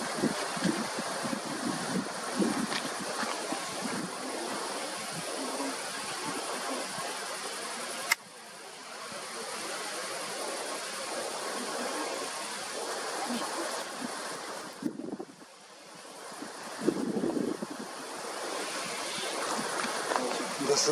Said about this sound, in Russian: Шум ветра